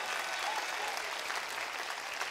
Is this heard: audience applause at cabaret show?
yes